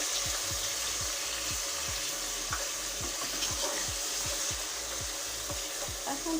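Ginger garlic paste fries with onion paste in a pan, a soft sizzle under repeated low knocks of a spoon stirring against the pot at a steady rhythm.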